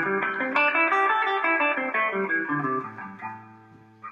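Electric guitar playing a minor pentatonic scale at a moderate tempo, clean single notes stepping one after another up and down, ending on a held note with a final pluck.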